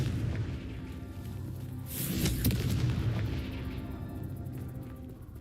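A booming blast from the Confringo fire spell in the Hogwarts Legacy video game, one deep rumbling explosion that swells and then fades over steady game ambience.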